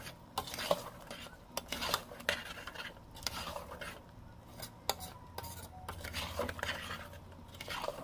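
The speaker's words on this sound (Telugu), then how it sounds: "ఇప్పుడు 2 మినిట్స్ ఇలా మిక్స్ చేద్దాం." Mutton curry with chili powder and turmeric stirred in a pot, a spoon scraping and clinking against the metal in an irregular rhythm of strokes, close and quiet with a faint sizzle beneath.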